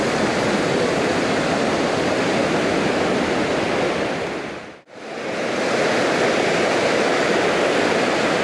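A waterfall at Akame 48 Falls, a dense, steady rushing roar of falling water heard up close, cut by one brief dip into near-silence midway before the roar resumes.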